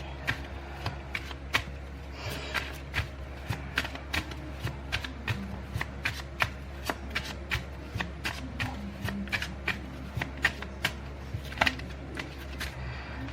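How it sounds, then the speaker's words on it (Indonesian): Tarot cards being shuffled by hand, a steady run of crisp riffles and soft taps repeating close up for over thirteen seconds, with no talking. "Sekarang aku shuffle buat orang yang di sebelah kiri."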